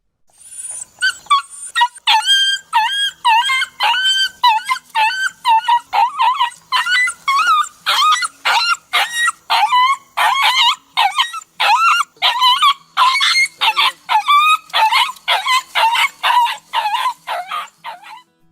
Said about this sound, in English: dog crying in pain